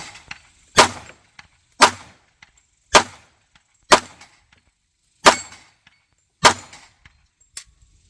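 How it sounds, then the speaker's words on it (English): Seven sharp, cracking reports from a SIG Sauer P226 pistol fitted with a .40 cal barrel, fired one at a time at roughly one-second intervals, each a short loud bang with a brief decay and quiet between shots. "First shot."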